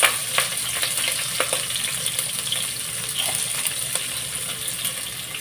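Green chillies and onions frying in hot oil in a pan, a continuous close sizzle with scattered light crackles and pops, fairly loud and steady, with no voices.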